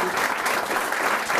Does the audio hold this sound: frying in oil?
no